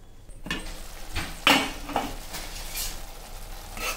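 Meal maker (soya chunk) masala curry being stirred in a pan, with several distinct scraping spoon strokes and metallic clinks over a soft, continuous sizzle.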